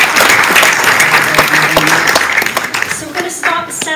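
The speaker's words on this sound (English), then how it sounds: "I think you all yourselves deserve a huge round of applause." Applause for nominees at a college student awards evening, steady dense clapping from a large audience that begins to fade toward the end as voices rise.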